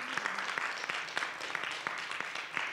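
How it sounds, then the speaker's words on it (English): Warm applause from a seated audience for two women presenters after a talk on grants, a steady wash of many hands with a few sharper claps standing out, fairly faint. "Can we have a round of applause for these wonderful women?"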